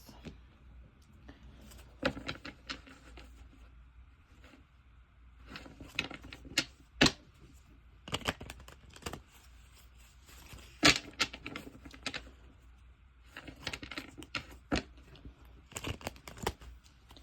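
Playing cards are shuffled by hand in a tabletop game session, giving bursts of crisp riffling and flicking at irregular intervals with quieter handling rustles between.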